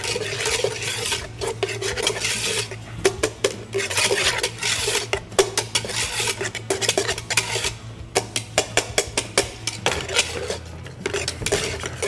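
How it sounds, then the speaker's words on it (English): A whisk scrapes and clatters against a pot while flour is stirred into melted butter for choux pastry, a close, busy rhythm of metal tapping and rasping over a low steady hum. "We're going to whisk it all together until it's smooth."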